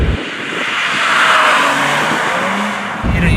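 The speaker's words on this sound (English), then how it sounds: "I can't believe this is the V6, and I can't believe it comes out of a Toyota." A Lotus Evora with a supercharged Toyota V6 accelerates hard from inside the car, engine note rising loud and steady, then shifting and climbing again near the end.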